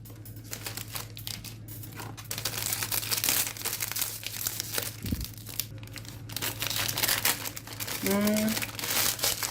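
A Gaafar El Omda biscuit packet's plastic wrapper is torn open, giving continuous close crinkling and crumpling with louder tearing bursts over about ten seconds.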